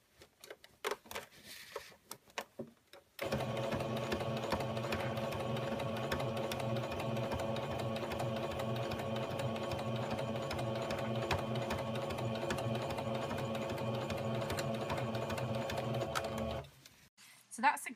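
A sewing machine stitches fabric continuously for over ten seconds with a fast, steady mechanical whir and rattle, bracketed by brief handling noises.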